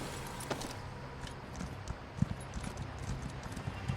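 Summoned horse's hooves in The Elder Scrolls Online, a steady clip-clop of footfalls over low ambient game sound, with one sharper thud partway through.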